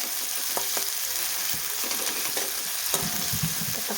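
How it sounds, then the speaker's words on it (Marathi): Onion frying in a pan for a guar curry gives a loud, continuous sizzle broken by occasional stirring scrapes, heard up close and alone. "छान कांदा भाजून घेऊया"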